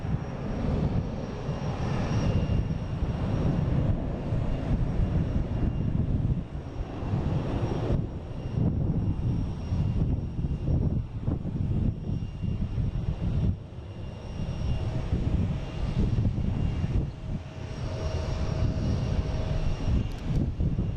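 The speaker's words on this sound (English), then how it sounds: "Oh, but first we have another JetBlue taking off," JetBlue airliner taking off, a loud, rumbling engine roar with uneven surges and brief dips, sustained across the whole stretch without speech.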